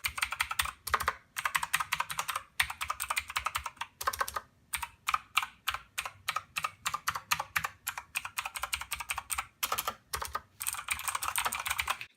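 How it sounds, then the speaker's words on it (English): Fast typing on an iXCC Beast LED-backlit mechanical gaming keyboard with clicky Cherry MX Blue knockoff switches: close, crisp clacking in rapid bursts broken by short pauses. "I know I didn't do a full typing test here. I'll do that real quick right now."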